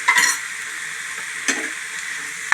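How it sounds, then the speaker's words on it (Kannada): Food frying in a pan is stirred after black pepper powder goes in, with a steady sizzle broken by a few sharp scraping strokes near the start and end. "ಚೆನ್ನಾಗಿ ಫ್ರೈ ಆಯಿತು ಇವಾಗ ಇದಕ್ಕೆ ಸ್ವಲ್ಪ ಕಾಳು ಮೆಣಸಿನ ಪುಡಿ ಹಾಕೋಣ ಪೆಪ್ಪರ್ ಪೌಡರ್"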